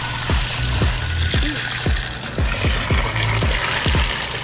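Water pouring and splashing into a container, about 2 gallons for slime, a continuous rushing flow with repeated glugging pulses, loud and close.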